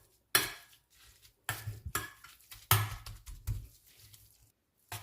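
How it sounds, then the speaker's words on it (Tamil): Cooked green gram dal being mashed in a pot, heard as a few separate bursts of metal scraping and clanking against the pot with quiet gaps between them, close and fairly soft. "லைட்டாக ஸ்மாஷ் பண்ணிக்கலாம்."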